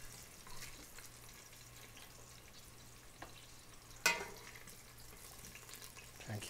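Onions browning in oil in a thick pot give a faint, steady frying hiss throughout, with one brief clink and a low hum underneath.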